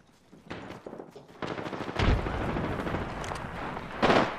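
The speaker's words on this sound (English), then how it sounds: "Frag out." Frag grenade blast and gunfire in Black Ops 3: scattered shots build into steady rapid fire with a heavy low boom near the two-second mark and another loud burst near the end.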